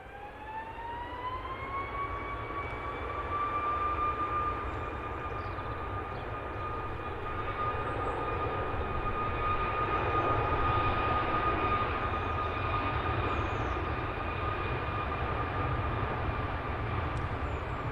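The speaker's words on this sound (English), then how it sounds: "Ryanair out to Rome." A Ryanair jet airliner departs Manchester Airport for Rome, its engines holding a sustained, rising whine over a broad, steady roar at moderate distance, with no voices.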